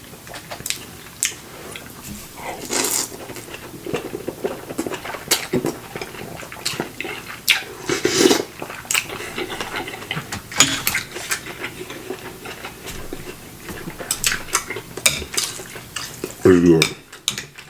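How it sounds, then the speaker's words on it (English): Homemade pho broth being ladled and stirred in a pot, with repeated clinks of utensils against dishes and soft liquid sloshing in an irregular rhythm, close up and without speech. "I had to add me some more broth in here"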